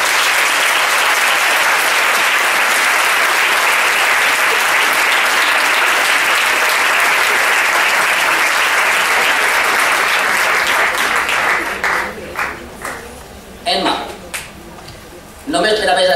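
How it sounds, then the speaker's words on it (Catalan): A crowd gives the 2014 fallera major of Falla Sant Antoni in Xirivella a long, steady, loud round of applause at the falla presentation, breaking into scattered claps at the end as a voice speaks. "demane a tots els presents un fort aplaudiment a la fallera major de l'any 2014"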